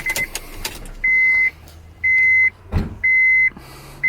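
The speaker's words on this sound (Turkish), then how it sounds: "Şöyle size bir kontak açalım." The ignition is switched on in a Honda S2000 AP2 with a 2.2-litre engine, Spoon exhaust and Mugen parts. A clear electronic warning chime pulses four times at an even, half-second rhythm.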